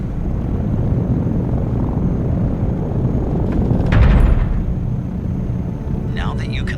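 A Dune ornithopter lands in Microsoft Flight Simulator, giving a loud, steady rumbling engine roar that swells briefly near touchdown, with short bursts of speech near the end.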